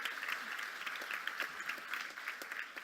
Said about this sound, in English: So a round of applause for these interns that are coming forward